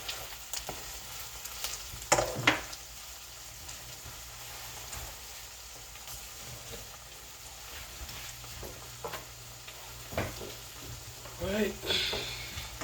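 Okra seasoned with spicy lime seasoning fries in a pan, a continuous low sizzle with occasional louder crackles and stirring scrapes, while a person talks intermittently over it.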